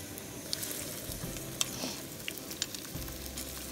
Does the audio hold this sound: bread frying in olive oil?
yes